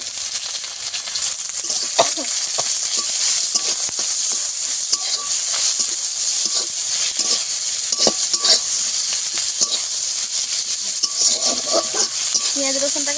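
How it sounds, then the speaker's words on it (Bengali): Onion and garlic frying steadily in oil with panch phoron and a bay leaf, a constant bright sizzle with scattered spoon scrapes and stirring clinks, no voices. "ভালো করে একটু লালচে করে ভেজে নেব পেঁয়াজ রসুনটাকে"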